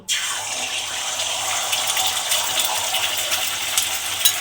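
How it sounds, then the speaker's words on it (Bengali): Beaten salted egg hits hot cooking oil in a pan and sizzles at once, a steady loud frying hiss that carries on alone for several seconds. "ফেটিয়ে নিয়ে আমি এই তেলের মধ্যে দিয়ে দেব।"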